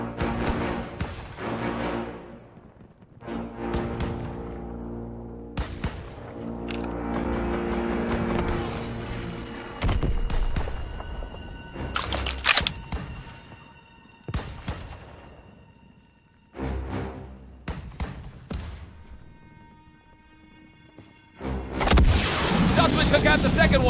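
Gunfire and explosions in a Call of Duty WWII campaign battle on a fortress mission, loud and sustained with repeated booming blasts and weapon fire, alongside game voices.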